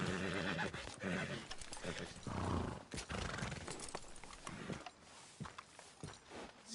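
A horse in Red Dead Redemption 2 clip-clops along with clear, uneven hoof beats over a busy mix of other game sounds, close and fairly loud.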